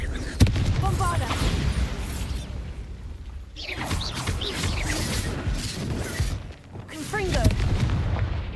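In Hogwarts Legacy, the Bombarda spell is cast: a sharp blast thuds near the start, then rumbling booms and crashes follow in bursts, with a voice talking over parts of the battle noise.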